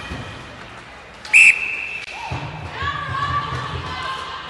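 A referee blows one short, sharp whistle during a youth ice hockey game in a rink, followed by a thud from the boards and a commentator talking over the arena noise.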